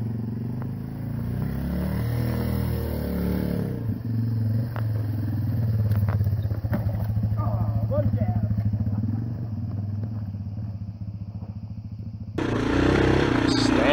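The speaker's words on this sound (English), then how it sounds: "Yamaha XT225 1993 version trail bike" Yamaha XT225 1993 trail motorcycle ridden on the Rubicon Trail, its engine rumbling steadily and close throughout with rattling clatter, rising louder near the end, while someone talks over it.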